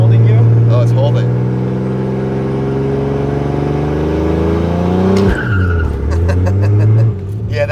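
A turbocharged BMW E36 with a swapped ZF 8HP automatic is floored against the brake. The engine roars loudly with a rising whine for several seconds, then cuts out briefly and revs again with a squeal, close and constant.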